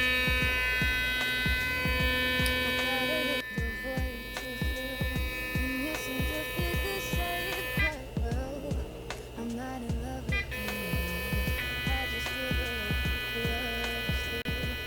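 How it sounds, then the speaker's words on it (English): An Oclean smart sonic electric toothbrush buzzes steadily up close, its motor tone shifting between its two intensity levels with brief pauses and clicks as modes change. "Now let's have a listen to the toothbrush."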